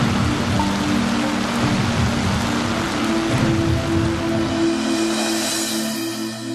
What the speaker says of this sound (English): You throw in that kind of torrential rain, then you're dealing with an impossible situation.